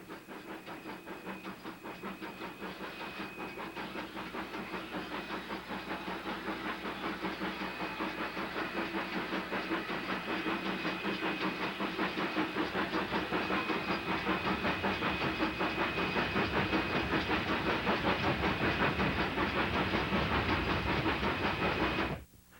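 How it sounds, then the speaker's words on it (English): In Hampton, a 1949 ET&WNC narrow gauge steam train crossing a covered bridge, with continuous hissing steam, rhythmic exhaust beats and wheel clatter building slightly louder before cutting off abruptly. "In Hampton, the train crosses the covered bridge."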